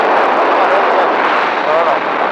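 Race car engine roaring at full throttle on the Magny-Cours circuit, a loud, continuous, close wash of engine and wind noise that holds steady throughout.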